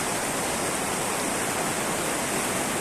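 Overflowing rivers and streams in Quba, Azerbaijan rush past as a loud, dense, unbroken roar of water, close by and steady from start to finish with no voices.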